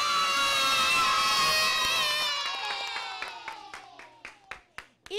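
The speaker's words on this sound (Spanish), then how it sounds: "Pues un aplauso con grito bien fuerte" Children in an audience cheer and shout loudly with clapping, a dense crowd roar that fades into scattered claps and shouts.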